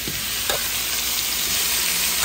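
Chicken sears in a wide pot for a Guyanese one-pot pot roast, a steady loud sizzle and crackle of frying throughout, with faint stirring scrapes and no talking.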